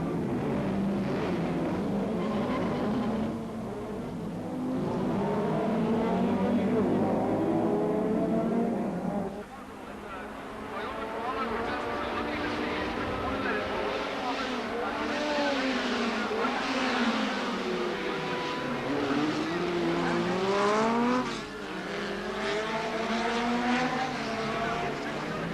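GT race cars at the Dun Laoghaire road races roar past on the street circuit, engines rising and falling in pitch as they accelerate, shift and pass, loud and continuous, with a commentator speaking over them.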